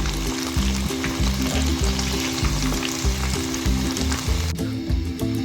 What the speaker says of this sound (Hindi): अब जो बाकी बची है वो फ्राई करेंगे इसी तरीके से।